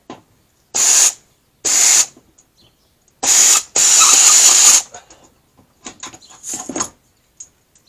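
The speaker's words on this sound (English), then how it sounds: "we're going to go to the brand new trusty air ratchet" An air ratchet works on the front suspension of a third-generation Ram truck, giving loud close bursts of hissing, buzzing air tool noise, short then longer, separated by pauses and a few quieter clicks.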